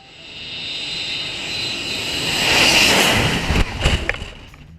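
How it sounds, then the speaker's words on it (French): An airplane takes off near Saint-Martin airport at sunset, its jet roar building steadily and loud, peaking with a broad rushing whine before gusty rumbles close it out. "regarde comment cet avion s'est envolé vers ce coucher de soleil"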